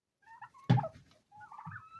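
Small white turkey poults on a farmstead give soft chirping peeps and one brief louder squawk, close by in a quiet setting.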